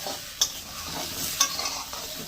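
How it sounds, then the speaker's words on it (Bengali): Ridge gourd and potatoes frying in oil in a pan, a steady low sizzle broken by a few sharp stirring scrapes, close and moderately quiet with no talking. "এবার ঝিঙেটা ভেজে নিচ্ছি, তারপর আলুগুলো ভেজে নেব"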